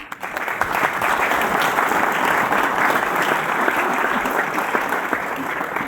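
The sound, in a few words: audience applause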